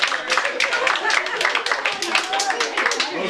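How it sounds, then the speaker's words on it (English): An audience at a family magic show bursts into dense, lively clapping for two child helpers, the applause loud and close, filling the few seconds without a break. "let's give Cole and Ben a big round of applause"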